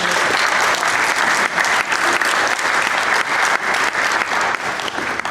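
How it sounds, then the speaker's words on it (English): Young Liberals at a summit in a McMaster student center applaud themselves, a dense, steady round of many hands clapping at close range, sustained at full volume from start to finish. "give yourselves a round of applause"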